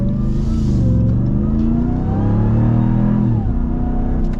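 A 2022 Ram TRX pickup's engine revs and accelerates, its deep low rumble rising and shifting in pitch, loud and close inside the cab with no talking.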